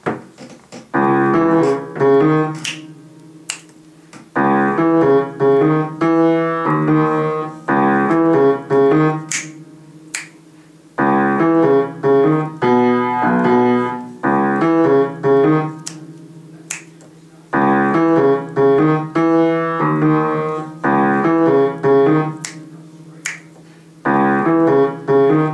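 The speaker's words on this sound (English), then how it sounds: "So once all the way through your left-hand bass line should sound something like this." Piano bass line for a song, played as steady repeated low notes with a rhythmic pulse that pauses briefly between phrases, loud and close with no talking.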